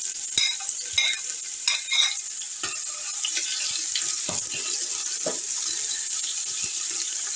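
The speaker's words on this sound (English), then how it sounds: "my oil is hot enough, so I will be going in with my onion" Onions sizzling and crackling in hot oil, a constant close-up hiss with scattered pops and a few stirring knocks.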